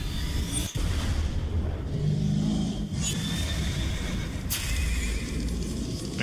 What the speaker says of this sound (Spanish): Mira, el caballo salvaje.